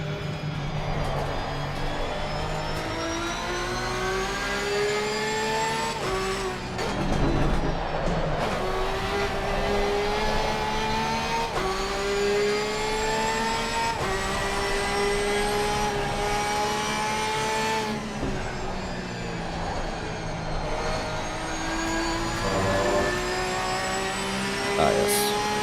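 A Porsche 992 GT3R race car in the Assetto Corsa Competizione racing game gives a loud, steady engine drone that rises and falls in pitch through gear changes and revs, continuous for the whole stretch.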